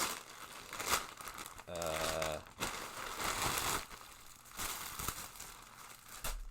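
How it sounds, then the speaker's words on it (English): Crinkly plastic packaging from a parcel of shirts rustles and crackles in uneven bursts as it is unpacked, close by, with a brief hum of a voice in the middle. "Probably a lot of rustling going on here."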